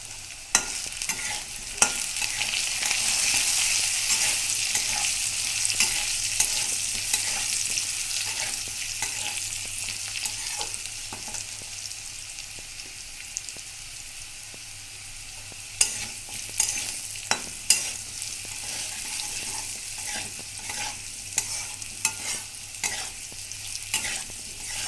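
Potatoes fry in a pan with a soft, steady sizzle, broken by repeated sharp scrapes and clacks of stirring that come in clusters, fairly close and moderately quiet, with no talking.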